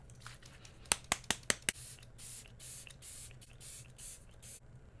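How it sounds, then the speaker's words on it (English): A Believe Beauty makeup setting spray mister is pumped five times in a quick, crisp burst of sharp hisses, followed by softer, repeated airy spritzes, close and clear. "I'm going to top it off with this Makeup Perfecting Setting Spray from Believe Beauty at the Dollar General."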